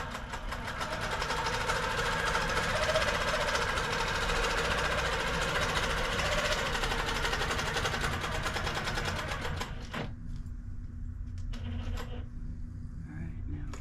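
Domestic sewing machine stitching an insulated tote bag, running in a fast, steady mechanical whir with a rhythmic needle clatter for about ten seconds before stopping, followed by quieter handling sounds.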